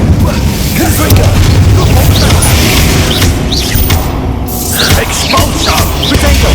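Confringo explosive spell bursts in Hogwarts Legacy during a combat fight, loud booming blasts and crackling impacts layered over dense battle noise, with a voice shouting.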